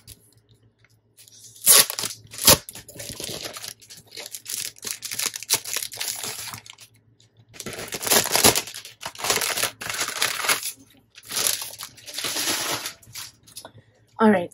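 Paper packing from a stationery subscription kit crinkling and tearing as it is unwrapped, in close, loud, uneven bursts of rustling with brief pauses between them.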